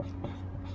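A short scratchy stroke of writing on a classroom board during a lesson on motivation, heard close over a steady low hum.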